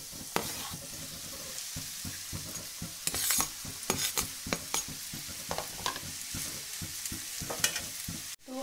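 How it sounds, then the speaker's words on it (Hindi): Hakka noodles stir-fried in a hot pan for veg chowmein, with a steady loud sizzle and repeated scraping, tossing strokes of a utensil against the pan, close and continuous with no voices. "अब इसके साथ ही हम डाल देंगे ये हक्का नूडल्स"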